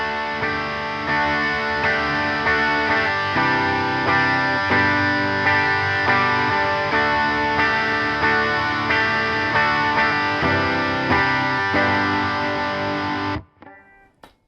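Electric guitar on the bridge humbucker through a Fender Princeton Reverb ToneMaster amp: chords strummed in a steady rhythm for about thirteen seconds, then cut off abruptly with a short fading tail.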